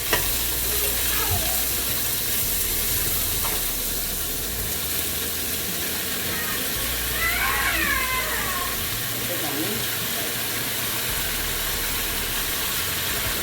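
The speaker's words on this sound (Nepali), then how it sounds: "अब हामीले यो डल्ले च्याउ हाल्यौँ" Dalle mushrooms sizzling in a pan after onions have browned, a continuous hiss of frying with occasional scrapes of stirring, close and steady throughout, with a faint voice in the background.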